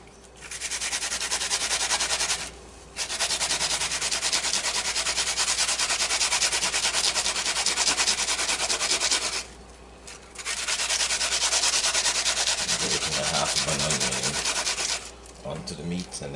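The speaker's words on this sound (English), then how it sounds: "I'm gonna grate a half of an onion in there also." Onion and garlic are rubbed against a grater into a bowl for curried chicken marinade, making rapid raspy scraping strokes in three long bursts separated by short pauses, close and fairly loud with no talking.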